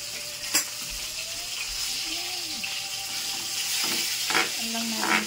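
Chili garlic oil frying in a pan, a busy crackling sizzle with occasional sharper pops and a stirring scrape, moderately close and continuous throughout.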